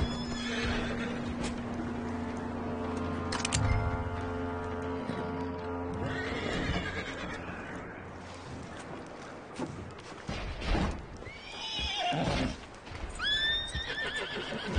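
A horse in Red Dead Redemption 2 gives repeated loud, close whinnies and snorts with clip-clopping hooves, while wind and game ambience run underneath and a voice speaks briefly.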